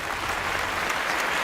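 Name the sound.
looping fake applause sample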